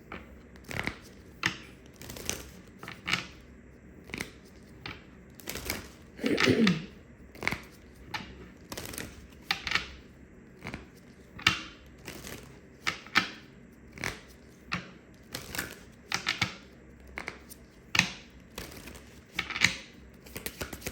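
Karma cards shuffled by hand in repeated soft flicks and riffles, close and quiet, spaced irregularly across a long stretch with no talking.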